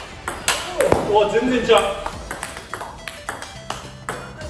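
Table tennis balls strike an Andro Synteliac racket in a run of crisp, bright taps and pings, heard under close, animated talk between players.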